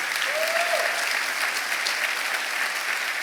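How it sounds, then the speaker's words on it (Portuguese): A live audience applauds steadily at a church sermon, a dense, even wash of clapping that holds at full strength throughout without pause. "eu quero sentir aplausos mais fortes"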